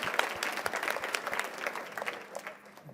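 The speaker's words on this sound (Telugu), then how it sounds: "ఇంటికి చప్పట్లు కొట్టండి" A church audience claps together, a dense burst of many hands close and fairly loud for a few seconds before tapering off, with faint voices underneath.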